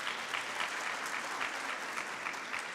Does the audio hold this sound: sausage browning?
no